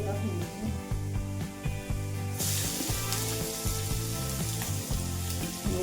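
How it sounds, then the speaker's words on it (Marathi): Grated raw mango goes into freshly fried masala and sizzles steadily, with the frying growing louder and brighter about halfway through, all under continuous background music. "त्याच्यामध्ये आपण जे कैरी किसून घेतली होती त्याच्यामध्ये टाकून घ्यायची"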